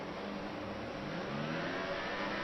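A Formula One race car engine in F1 2018 holds at steady revs on the starting grid, a continuous, loud whirring drone that rises slightly toward the end with no talking.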